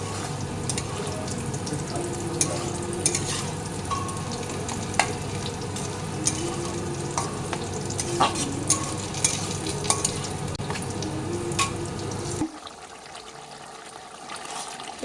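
Meat sizzles and fries in a pan of spice masala while being stirred, a steady close sizzle broken by scraping stir strokes and clicks, then cutting to a quieter, dimmer hiss near the end.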